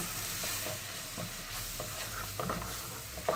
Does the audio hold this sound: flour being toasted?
yes